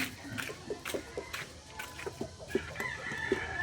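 Breeder chickens clucking with short crowing calls, scattered near and mid-distance fowl sounds over quiet farmyard background noise.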